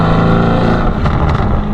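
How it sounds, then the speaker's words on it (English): A Lamborghini Urus fitted with a Novitec exhaust system rumbles at low revs while cruising at around 66 km/h, giving a loud, deep, steady burble mixed with wind noise. "the splendor of this exhaust system even at lower revs"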